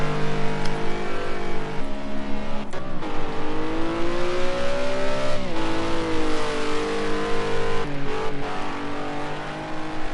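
A GT race car, likely a GT4 machine, powers through the final corner at Snetterton during a British GT race. The engine roars loud and close throughout, its pitch dipping and rising with brief gear-change breaks.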